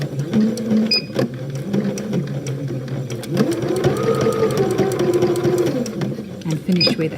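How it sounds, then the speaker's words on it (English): Domestic sewing machine stitching the base of a fabric doorstop, running in steady mechanical bursts with a short pause, then a longer continuous stitching run, up close while a person talks over it. "First stitch to strengthen the corner, and then you're going to just have a tiny bit to sew just to finish the base."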